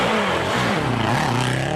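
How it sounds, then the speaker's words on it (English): Skoda Fabia S2000 rally car engine misfiring at a rally stage, a loud close rough engine note with uneven stuttering pulses throughout. "the Fabia S2000 sounding like it's misfiring"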